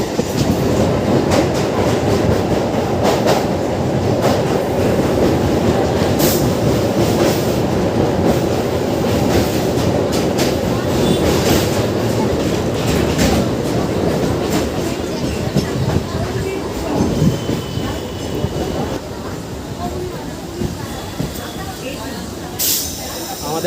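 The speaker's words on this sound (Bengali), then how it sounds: "ট্রেন এসে পৌঁছালো বালিঘাট স্টেশনে" A Dankuni-Sealdah local train rumbles steadily along the rails near Balighat, a loud, continuous roar with rhythmic clatter from the carriages, underlying hiss and a brief high squeal near the end.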